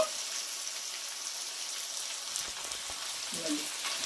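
Ginger and garlic frying in oil in a pan for a fenugreek-leaf chicken curry, a steady close hiss and sizzle throughout with a brief stir near the end.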